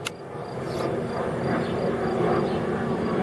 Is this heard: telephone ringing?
no